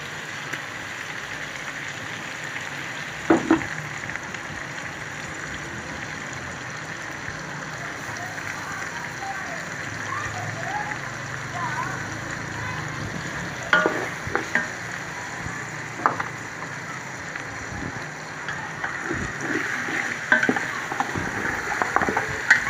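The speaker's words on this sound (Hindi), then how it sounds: "अदरक डाल के थोड़ा भूनना है इसको।" Ginger garlic paste fries in a pot for beef biryani. A continuous crackling sizzle runs throughout, broken by occasional scrapes and knocks of a spoon as it is stirred. No one speaks.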